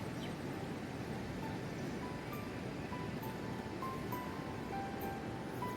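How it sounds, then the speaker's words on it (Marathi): A river running beside a village in the countryside, heard as a steady broadband wash of flowing water, moderately loud and continuous throughout with no talk. "बाजूलाच नदी आहे"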